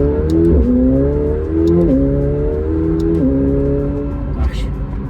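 A 2024 McLaren 750S engine, set to track mode, revs in repeated rising pulls, dropping briefly between gear shifts, loud and close.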